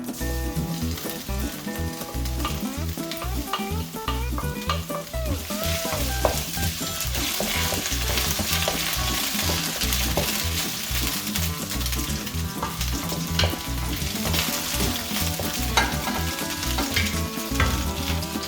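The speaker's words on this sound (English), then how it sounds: "Then we'll add our garlic." Garlic hitting hot olive oil in a pan sets off a loud, dense, continuous sizzle that holds steady and close throughout, with no talking.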